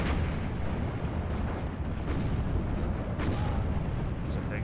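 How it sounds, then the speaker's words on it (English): A big explosion in the World War II strategy game Steel Division 2 gives a dense, continuous rumble of blasts and battle noise, loud and steady throughout. "It's a big explosion."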